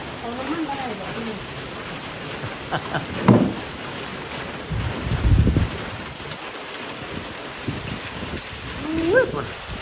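Steady rain falls during the rainy season amid flooding, a constant wash of patter with gusty wind across the microphone, while a few people talk quietly in bursts underneath.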